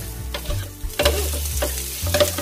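A spatula scrapes and clacks against a pan while mixing sizzling ground meat with onions and peppers, giving several rhythmic scraping strokes over a steady fry, close and loud with no voices.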